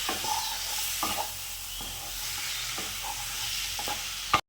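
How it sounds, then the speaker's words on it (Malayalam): Chicken kondattam frying in a pan and being stirred, a continuous soft sizzle broken by regular scraping strokes of the spoon, close and moderately quiet, ending in a sharp knock before it cuts off. "നന്നായിട്ടൊന്ന് ഇളക്കി അടച്ചു വെക്കാം"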